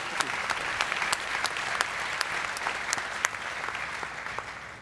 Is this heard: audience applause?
yes